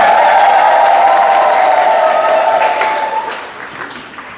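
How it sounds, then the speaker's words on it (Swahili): A church congregation claps in sustained applause with some cheering, loud and steady at first, then thinning and fading toward the end. "Pigieni makofi."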